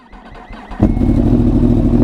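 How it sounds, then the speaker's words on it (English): A Yamaha R1 motorcycle cold-starts close by: a brief quiet crank, then the engine catches abruptly and settles into a loud, steady, rumbling idle that runs to the end. "Let's get a little cold start going."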